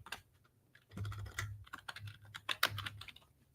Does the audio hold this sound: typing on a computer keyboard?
yes